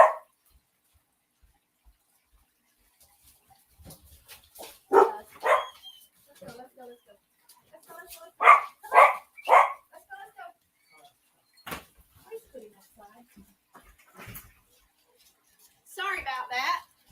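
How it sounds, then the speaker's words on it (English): A pet dog barks in several short bursts and pairs, fairly close and loud, spread across a quiet room with occasional clicks and a person speaking. "Honey, you got to quit barking."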